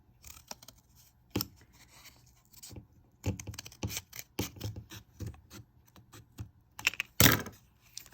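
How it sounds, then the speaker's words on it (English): A sheet of paper is folded in half and creased into a small rectangle, giving a run of soft, close crinkles, rustles and sharp creasing snaps with short pauses and no talking. "If I fold this in half and then create a little"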